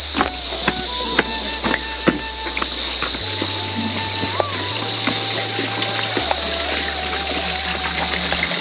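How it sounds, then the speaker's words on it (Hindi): Water pours and splashes into containers at a spring near a Himalayan temple in Uttarakhand, a steady close rush with faint tonal whistles and low rumbles over it. "पानी भर रही है और हम भी भरते हैं"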